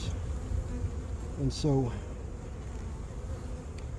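Honeybees buzz steadily at an open hive, a close, continuous insect drone, with a person briefly speaking partway through.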